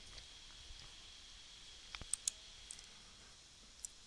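A few faint, crisp computer mouse clicks sound in near silence, two close together, then a single lighter tick shortly after.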